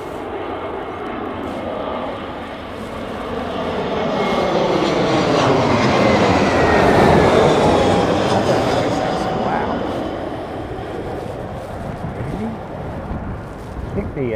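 Planes come in to land at Heathrow Airport in crosswinds during Storm Nelson. A jet's roar swells to a loud peak as it passes close, then fades, over constant wind and outdoor rumble.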